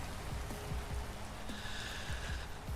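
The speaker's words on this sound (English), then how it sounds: "Rain. Go away." Steady rain falls in Vintage Story, a continuous soft patter with a few low thuds and tonal game sounds layered over it, no talking.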